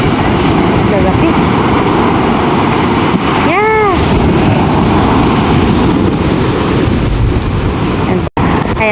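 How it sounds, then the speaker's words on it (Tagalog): Loud, constant wash of sea waves and wind buffeting the microphone aboard a small boat heading home before rain, with a brief voice rising over the roar. "Ayan po yung alon."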